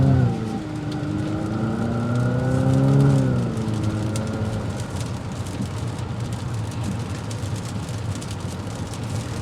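A 2022 Infiniti QX50's VC turbocharged engine revs up with rising, sweeping tones, then settles into a steady rushing road roar as the SUV speeds along.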